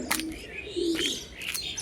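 Lotan pigeons in a loft give soft low cooing notes near the start and middle, mixed with brief chirps from other birds, close and moderately loud.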